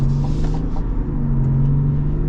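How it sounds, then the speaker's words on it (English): A 2023 Cadillac Escalade Sport Platinum with the Duramax diesel accelerates, giving a steady, loud, low engine drone with a smooth hum and no breaks. "let's get an acceleration here with this"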